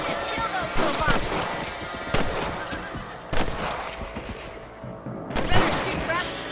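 Rifle or revolver shots from rabbit hunting in the Red Dead Redemption video game: several sharp, loud cracks spaced a second or two apart, set against game ambience and occasional voices.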